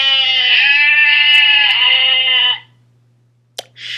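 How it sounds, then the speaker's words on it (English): A single sheep gives a long, loud, wavering bleat up close, then silence, a sharp click and the start of another bleat, over a faint steady low hum. "Sheep."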